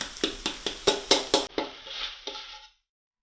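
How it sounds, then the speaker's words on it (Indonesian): Petai batter sautéed in a pan with sambal goreng spices. A regular rhythm of close stirring scrapes and clinks runs over a frying hiss, then the hiss alone trails off and cuts to silence. "Adonan petai yang sudah jadi tadi kemudian ditumis hingga harum bersama dengan bumbu racikan sambal goreng."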